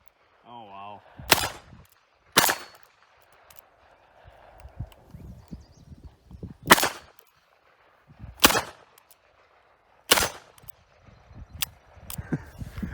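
Sharp, loud single shots from a Taurus Model 66 revolver firing .38 rounds at a shooting range, spaced every second or two, with people talking quietly between the shots.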